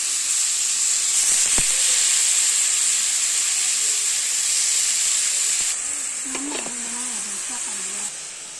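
Beetroot frying in a pan with curry leaves and urad dal gives a loud, steady sizzle and hiss. The sizzle eases slightly toward the end, and a voice speaks briefly over it.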